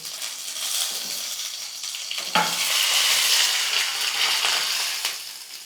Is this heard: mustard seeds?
yes